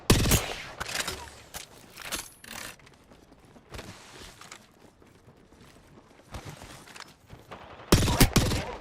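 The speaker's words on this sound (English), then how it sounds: "I'm taking fire, friends." Gunfire in a shooter video game: scattered bursts of rapid shots separated by quieter mechanical clicks and movement, with a loud volley at the start and another near the end.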